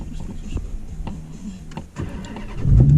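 A manual Dodge Challenger's engine runs at a low, uneven rumble, then swells into a louder, deeper rev in the final half second.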